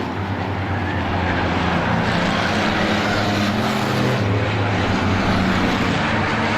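Several race cars in the 2017 Halloween Howler 6-Shooter feature roar around a track together, a dense, continuous, loud engine drone with no break.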